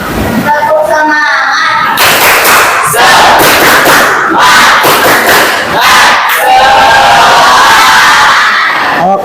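A classroom of children performing the 'tepuk semangat' clapping chant, loud shouted voices and rhythmic claps filling the room in bursts, with a teacher's voice briefly among them.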